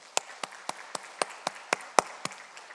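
A church congregation claps in unison, about ten sharp, evenly spaced claps at a steady rhythm, fairly quiet and with no talking over them.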